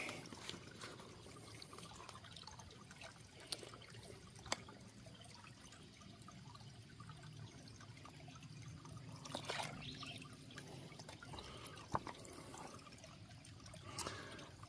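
Water trickling and gurgling softly outdoors, with occasional small splashes and handling bumps, like a bottle being filled in a stream.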